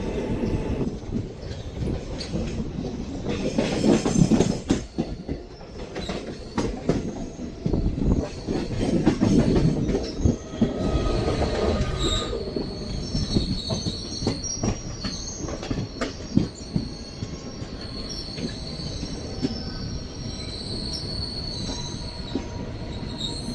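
Alappuzha–Kannur Executive Express rolling into Aluva station, wheels squealing loud and close against the rails with steady rumbling and clatter of the coaches throughout.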